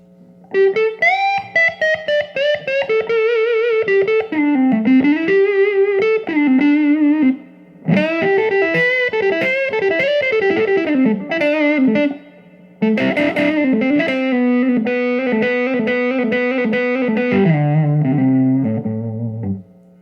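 A distorted electric guitar with modern SSS pickup wiring plays loud, sustained melodic phrases with bends, pausing briefly twice before ending on low chords.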